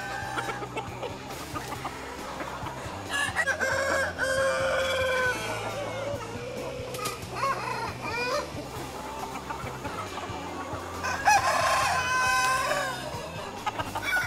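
A farm flock of 7,000 purebred Sơn Tây Mía chickens clucks and crows all at once, a dense, continuous chorus of overlapping calls with roosters rising above the hens.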